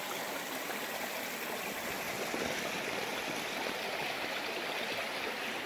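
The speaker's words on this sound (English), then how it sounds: "We found a little river crossing here." Small river running steadily past a trail crossing on a forest hiking loop, its broad, even rush close and constant throughout with no voices.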